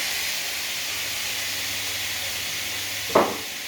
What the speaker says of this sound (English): We're going to put the chicken, the garlic, celery and the leeks and cook that in a wok